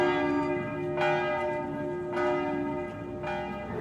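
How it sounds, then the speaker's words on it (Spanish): The nearly 13-ton Santa María de Guadalupe bell at Mexico City's cathedral tolls three times at roughly one-second intervals, each strike ringing into a long sustained hum. "Esta campana de casi 13 toneladas de peso, Santa María de Guadalupe, anuncia por la hora de tercia"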